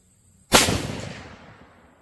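A Rossi 95 Trapper lever-action rifle fires a single loud, sharp shot that rings out and decays over about a second and a half, with near-silence before it.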